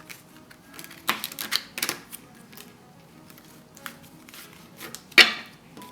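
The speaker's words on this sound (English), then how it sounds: "So you shuffle your cards." Light clicking and slapping of tarot cards shuffled by hand, in a few quick bursts with pauses between, close by, with a sharper snap near the end.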